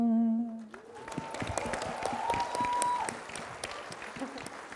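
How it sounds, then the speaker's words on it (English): A festival audience at a literature session in Jaipur breaks into lively applause right after a short sung phrase, clapping steadily for several seconds before easing off. "I think you deserve a round of applause for asking the question"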